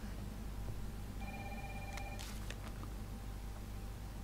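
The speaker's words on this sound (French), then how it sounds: "Alors on entend le téléphone." A telephone rings in Resident Evil 3 Remake, set in Raccoon City, with a short electronic bell burst over a steady low game ambience.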